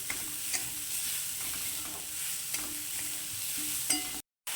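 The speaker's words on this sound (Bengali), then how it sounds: "অল্প চিনি দিয়ে দিয়েছি এবার এটাকে একটু ভালো করে ভেজে নেবো" Grated coconut filling with a little sugar frying in a pan, soft steady sizzle with repeated scraping strokes of a spatula, fairly quiet and close, ending in a brief silence.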